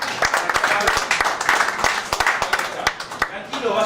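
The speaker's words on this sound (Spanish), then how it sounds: "quiero pedir un aplauso para nuestro contador." Scattered clapping from a small crowd at an expo talk, uneven and fairly close, with voices mixed in throughout.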